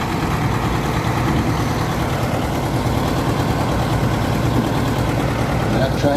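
An antique tractor engine runs at a tractor pull, giving a loud, steady low rumble that holds constant throughout, with faint voices mixed in beneath the noise.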